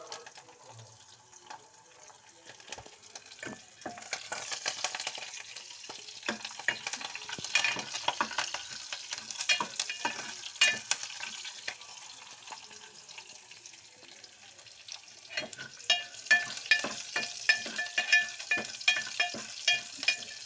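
Okra fries in a pan while being stirred, a quiet steady sizzle broken by repeated scraping and tapping strokes that grow brisker near the end, with no voices heard.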